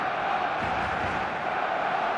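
A large stadium crowd in the eFootball video game, a steady loud roar of cheering and chanting that carries on without a break.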